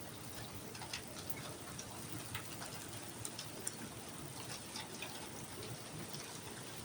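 Light rain falls over a vegetable garden planted with kangkong and okra, wetting the soil in a steady, even hiss. Pigeons coo softly now and then in the background.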